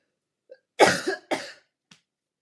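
Two sharp, close coughs in quick succession, followed by a faint throat sound, with silence around them.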